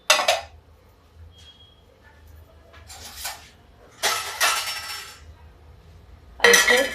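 Spoon scraping and clinking against a bowl while gram flour and semolina are mixed together, in a few short separate bursts with quiet pauses between.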